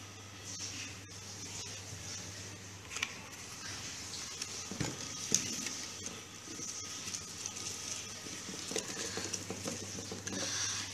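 Crushed ridge gourd leaves are stirred with a few drops of mustard oil in a bowl, giving soft, close, intermittent wet patting and scraping sounds with a faint steady hum underneath.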